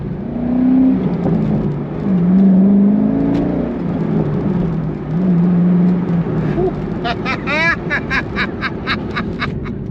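A 2006 Corvette C6 drives along, its engine note rising and falling through several revs in a low, loud drone, followed by a burst of quick, sharp chirping noises near the end.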